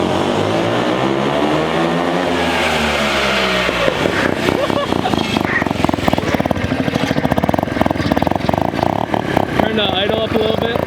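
A turbocharged rotary engine on a minibike runs loudly nearby, its pitch sweeping and wavering as it revs, then settling into a rough, buzzing idle with fast pulsing throughout.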